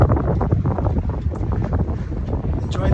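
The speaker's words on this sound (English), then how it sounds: "Feels good to have the wind in your hair." Wind buffets the microphone aboard a sailboat moving upwind in about 7 knots of breeze, a loud, close, gusty rumble filling the whole short moment.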